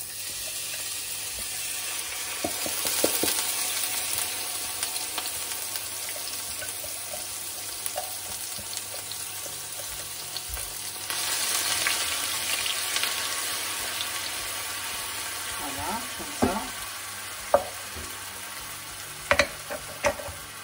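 Onions sizzling in a sauté pan while cooking an aubergine gratin, a steady close frying hiss throughout with occasional stirring clicks and small knocks near the end.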